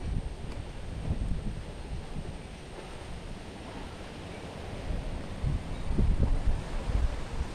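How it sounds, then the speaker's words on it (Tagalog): Wind gusts and rustles through acacia trees in rural Nueva Ecija with a steady airy roar, swelling louder near the end, buffeting the microphone; no voices. "yan yung binabayo na hangin"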